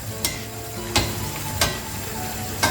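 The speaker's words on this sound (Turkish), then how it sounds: "Makarnayı iyice sosla buluşturuyorum." Steady sizzling from a hot pan of penne arrabbiata with a few sharp scraping stirs of pasta through the sauce at intervals, fairly close and moderate in volume.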